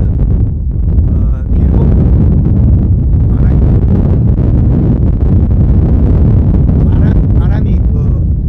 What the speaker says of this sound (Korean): 이거 지금 갑자기 위에 바람이 세게 불어서 제가 넘어질라는 정도까지 그 바람이 세게 불니다.